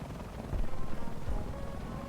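A video game helicopter's low rotor thump drones steadily and fairly close, with a faint beating rhythm under a broad whooshing roar.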